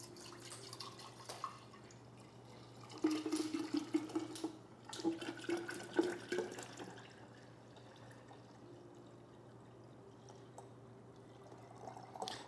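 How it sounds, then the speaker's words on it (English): Half a gallon of milk poured into a fresh jar for making kefir, a soft gurgling, splashing stream in a few bursts over a steady low hum, fairly quiet. "Then I'm going to take half a gallon of milk."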